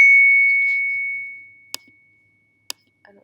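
Phone notification ding: a single clear bell-like tone that rings out and slowly fades, followed by a couple of small clicks in a quiet room.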